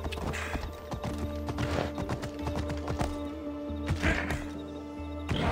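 Horse hooves galloping in Assassin's Creed Odyssey: loud, rapid rhythmic clip-clop beats throughout, close and continuous, layered over a droning game soundtrack.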